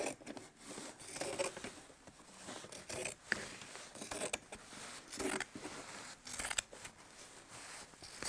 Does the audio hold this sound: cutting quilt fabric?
yes